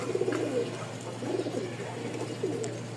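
Giribaz pigeons coo in repeated soft, throaty bursts close by, several rounds over a steady low hum, with no talking.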